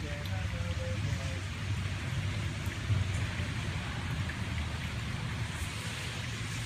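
Steady rain falling outdoors, a continuous even hiss of drops that holds at the same level throughout, with faint voices in the background.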